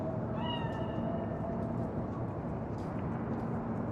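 A cat meows a few times in a Cyberpunk 2077 game scene, short tonal cries over a steady low ambient rumble that runs throughout.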